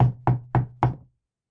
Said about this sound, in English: A knocking on the door interrupted further interchanges on the peculiarities of royalty.